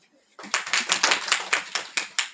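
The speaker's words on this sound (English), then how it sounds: "Clap." A small group claps in short rhythmic bursts, roughly ten distinct sharp clap clusters in quick succession, close and fairly loud in a classroom or lecture setting.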